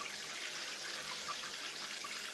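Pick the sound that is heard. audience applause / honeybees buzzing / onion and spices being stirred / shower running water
shower running water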